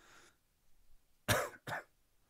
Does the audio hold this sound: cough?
yes